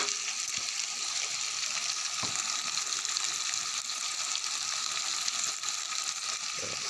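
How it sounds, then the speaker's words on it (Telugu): Bitter gourd curry fries in a pan, giving a steady, fairly quiet hiss of sizzling oil that runs unbroken throughout, with a few faint clinks and no voices. "చూడండి అలా వేపుతున్నాను."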